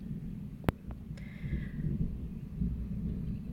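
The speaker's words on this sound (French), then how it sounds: "Je sais pas si vous entendez, mais c'est l'orage." Low, continuous rumbling fills the background, like distant thunder rolling, with a brief sharp click near the start.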